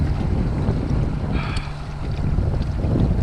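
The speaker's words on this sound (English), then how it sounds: "we're moving. This is all done by wind too. It's nice. I'm actually sailing." A Hobie Tandem Island sailboat moves under sail in wind, heard as a steady rush of wind buffeting the microphone mixed with low water wash against the hull, continuous and fairly loud with no talk.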